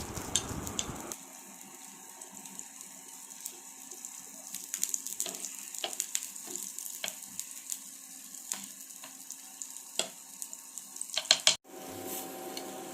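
Ragi sweet adai frying in ghee on a hot pan, a steady soft sizzle with scattered crackles and pops, fairly quiet and close, ending in a brief clatter.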